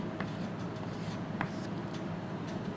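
Chalk or marker writing an aircraft thrust equation on a board during a lecture, a steady soft scratching with brief sharper strokes, fairly close, with no voices.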